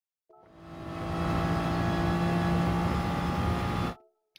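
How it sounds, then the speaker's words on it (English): A GR3 race car in GT Sport accelerates in fifth gear around Autodrome Lago Maggiore, its engine swelling into a loud, sustained high-revving roar for several seconds before cutting off abruptly. "I'm revving it all the way up in fifth gear here"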